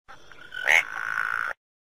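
A synthetic frog croak from a children's alphabet Android game, a single short croaking call of about a second and a half, clear and alone, ending abruptly into silence.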